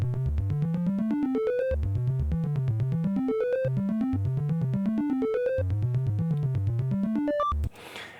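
A rhythmic synth loop built in Logic Pro over a 909 kick, with steady repeating bass thumps and rising and falling arpeggiated notes, loud and alone for about seven seconds before cutting off.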